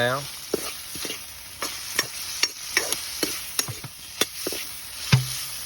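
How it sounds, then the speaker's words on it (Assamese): Food fries in a pan with a soft constant sizzle, broken by a steady run of sharp scraping and clinking strokes as a utensil stirs it, close up and with no voices. "এনেকৈ ভাজি আছোঁ"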